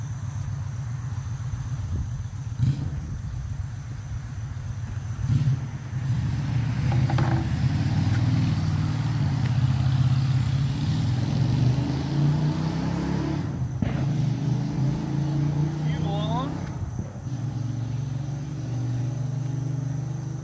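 A 1982 Yamaha YZ125 two-stroke dirt bike engine running on grass, a steady buzzing drone held throughout with a few revs and clicks, moderately close.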